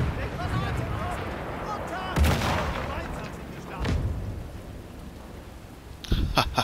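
A sticky grenade explodes in the Sniper Elite 5 video game, a loud booming blast followed by rumbling debris and a second thump, layered over steady background game noise.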